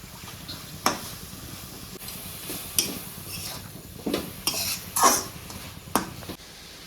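Radish curry being stirred in a cooking pot, with spoon scrapes and clinks against the metal at irregular intervals, close and moderately loud over a soft background hiss.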